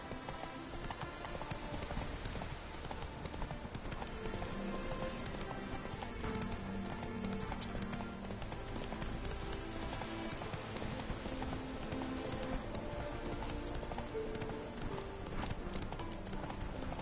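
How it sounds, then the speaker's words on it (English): Rapid clip-clop of a horse galloping in The Witcher 3: Wild Hunt, a steady, loud hoofbeat rhythm running throughout over a dense game soundscape, with no speech. "Run, Roach."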